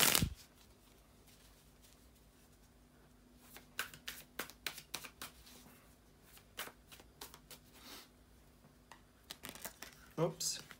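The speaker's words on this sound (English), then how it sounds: "bear with me a second, guys, to shuffle the tarot cards" Tarot cards are shuffled by hand in a series of quick, soft riffles and slaps. The bursts come in irregular clusters, close to the listener but fairly quiet, over a near-silent background.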